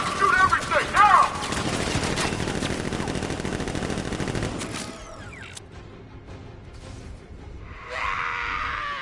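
Sustained rapid gunfire in Batman Arkham Knight, loud and dense for several seconds, then dropping away to quieter mechanical game sounds and a brief high hiss near the end.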